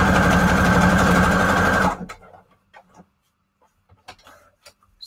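A sewing machine runs a wide, long zigzag stitch over paper scrap strips, whirring loudly and continuously for about two seconds before stopping, followed by faint clicks and handling noises.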